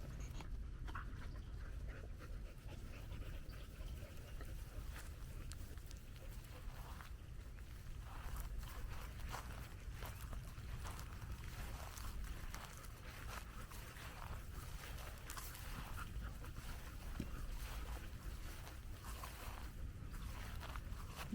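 A pack of American Bully XL dogs horse playing together, with faint, steady panting and soft scuffling of paws heard at low level throughout, with no clear talk.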